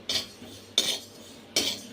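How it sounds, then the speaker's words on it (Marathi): Flax seeds roasting in a pan, stirred with a utensil: three sharp scraping strokes land about three-quarters of a second apart, each fading into a soft dry rustle, close and moderately loud with no voices. "5 मिनिटं असं भाजून घ्यायचंय जवसला"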